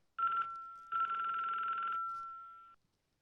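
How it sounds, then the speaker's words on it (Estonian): A telephone bell rings in two bursts, a short ring then a longer one, clear and close, its tone lingering briefly afterward. "Mu telefon heliseb."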